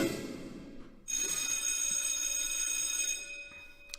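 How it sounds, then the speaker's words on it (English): A telephone bell sound effect rings alone in a sustained, bright trill lasting a few seconds, loud and clear after a short lead-in. "Hello, yeah, we've got fucking Maddie on the phone"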